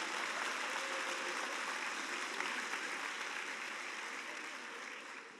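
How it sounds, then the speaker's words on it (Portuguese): A church congregation at a faith and finances conference claps together in a thick, sustained wash of applause that gradually softens toward the end. "Ó, se é para aplaudir o Senhor,"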